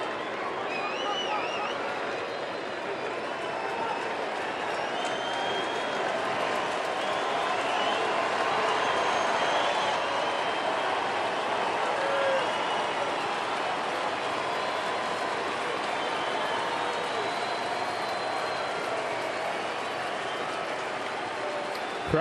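A packed baseball stadium crowd at a Dodgers–Diamondbacks game rises and cheers, a dense, continuous roar that holds steady and fills the whole stretch.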